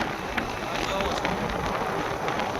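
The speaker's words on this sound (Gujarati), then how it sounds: "વરસાદ તો ચાલુ છે અત્યારે." Steady rain falls outdoors in a wildlife area where lions and elephants roam, making a dense continuous patter with faint spots of detail, with no talk over it.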